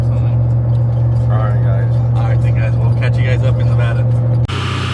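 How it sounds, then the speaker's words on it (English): A Dodge Hellcat runs steadily on a dyno, its engine holding a loud, constant droning hum that shifts abruptly near the end, while people talk over it. "so we got Hellcat on the dyno"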